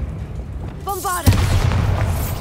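Hogwarts Legacy's Bombarda blasting spell goes off as a sharp, loud explosive boom with a rumbling tail, just after a brief voice casts the spell.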